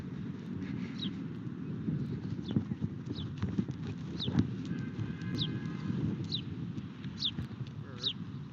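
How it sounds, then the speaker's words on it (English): A bird repeats short, high chirping calls about once a second on a street in Boyle Heights, Los Angeles, heard faintly over a steady outdoor rumble with scattered knocks and clatter. "Bird."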